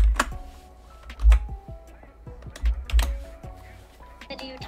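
Rapid clatter of keys on a computer keyboard, with several sharper bursts of taps and a short pause midway, close and fairly clear with no talking.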